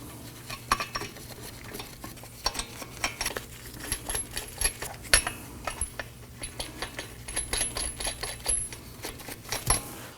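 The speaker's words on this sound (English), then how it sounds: "Let's go ahead and get all of our lug nuts started." Lug nuts are spun by hand onto the wheel studs of a 2018-2024 Toyota Camry 2.5L, a close run of light metallic clicks, rattles and clinks in irregular bursts.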